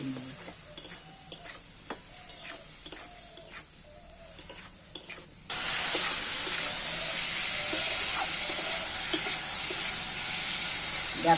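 Spice paste of chilli and turmeric sizzles loudly in oil with potatoes and pointed gourd, a dense steady frying hiss after a stretch of rhythmic stirring scrapes against the pan.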